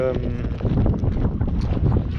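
Steady wind roars across the microphone over low rumbling from a boat crossing to Isla de Lobos, with water spray, a continuous buffeting noise with no clear speech.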